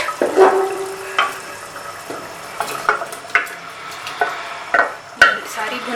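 Liver pieces stirred into frying masala in a pan, soft sizzling under intermittent scrapes and knocks of a spoon, close and moderately loud, with no voices.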